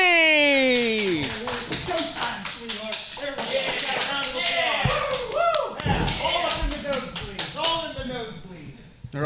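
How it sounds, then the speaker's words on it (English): Scattered clapping and tapping from a crowd at a live wrestling show, with voices talking over it throughout. "They're all clapping for Gorgeous Gregory and the lowlife James R"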